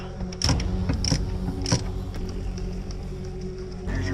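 A large differential bolt being loosened with a wrench or ratchet on a BMW E46 during a differential swap, several clicking, creaking metal clunks spread irregularly over a low background hum, close by.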